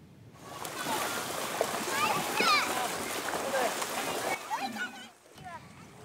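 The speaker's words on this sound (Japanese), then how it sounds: "静岡市の安倍川河川敷では子どもたちが気持ちよさそうに水遊びに興じていました。" Children play in the Abe River on a hot summer day, splashing water in an outdoor riverbed, with their shouts and chatter over steady splashing that fades toward the end.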